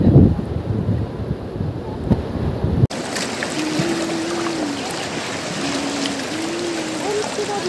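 A fast-flowing river at Devprayag, Uttarakhand, rushes in a dense, continuous roar. Wind buffets the microphone at the start, and a faint tonal sound rises briefly over the steady water.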